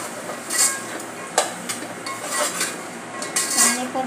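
A spatula scrapes and clinks against a pan while beans, corn, peas, cauliflower and carrots are stirred for masala rice, with repeated metallic taps and scrapes at an irregular rhythm, heard close.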